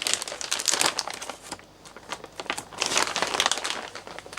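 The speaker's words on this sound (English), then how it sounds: "there's another big bag in here, and let's open that up" A large plastic parts bag from an MST FXX 2.0s RC car kit box is opened by hand, giving close, loud crinkling in bursts with a brief quieter pause in the middle.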